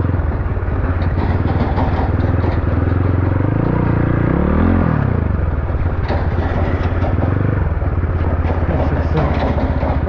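A motorcycle built for rough riding churns through slick mud and water along a riverbed, its engine a loud, continuous close roar with a rising and falling pitch mid-ride, wind buffeting throughout and a rider's voice faintly under it.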